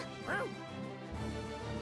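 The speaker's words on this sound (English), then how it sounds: "Not bad for a dog." A dog in a video game lets out one short, yelping bark near the start, over continuous game audio and a talking voice.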